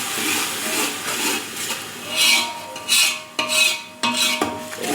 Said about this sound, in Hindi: इसको अच्छे से भूनना है